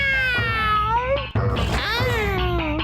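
A cartoon cat from a Motu Patlu comedy cartoon meows in long, wavering, drawn-out cries over a busy soundtrack, close and loud, with a short break midway before the yowling resumes.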